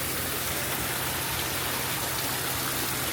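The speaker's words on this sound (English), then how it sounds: "This is so cool. You can walk underneath the waterfall." A waterfall at a wedding venue rushes in a steady, broad hiss of falling water, close and continuous, with no other sounds standing out.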